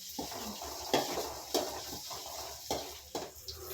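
Onion mixture stirred in a pan while making egg fried rice, with several distinct scraping and clinking strokes of a utensil against the pan over faint background frying, close and fairly quiet, no talking.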